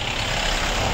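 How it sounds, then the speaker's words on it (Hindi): A vehicle coming along a village road in Uttarakhand, heard as a loud, close, steady engine rumble with broadband road noise filling the whole brief moment, no talking. "और सामने से गाड़ी आती है"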